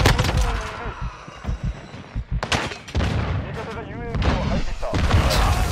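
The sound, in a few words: explosions in Call of Duty Modern Warfare II video game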